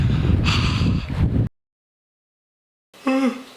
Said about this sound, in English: I wasn't supposed to yawn then.